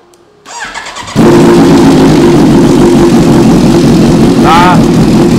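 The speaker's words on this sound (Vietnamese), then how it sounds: "Giờ cho anh em nghe tiếng bô một miếng nè." A Kawasaki Ninja H2 motorcycle engine fires up after a moment of quiet and settles into a loud, sustained exhaust roar, with a brief dog yelp near the end.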